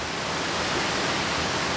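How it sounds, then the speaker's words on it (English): Steady rushing water close by, a dense, unbroken white-noise wash at even loudness from start to finish, heard inside a small off-grid 6x12 cargo trailer home. "Hearing water rushing for a while was like activating my bladder big time."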